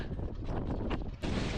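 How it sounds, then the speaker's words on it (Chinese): Strong wind buffets the microphone in open high-altitude country in Tibet beside National Highway 317, a dense, roaring rumble of gusts with no voices. "今天刮了一天的大风"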